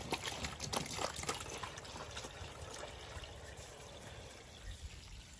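Fresh water poured for animals at an animal sanctuary at night, a soft continuous trickle and splash of liquid, close and fairly quiet, steady throughout with no talking.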